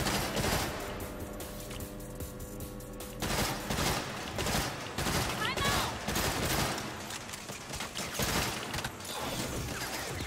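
Sustained gunfire during a shootout in the video game Saints Row, with sniper fire amid dense rattling bursts and crashing impacts, loud and continuous, with voices talking over it.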